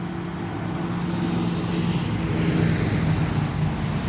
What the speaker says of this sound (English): there's noisy trucks going by here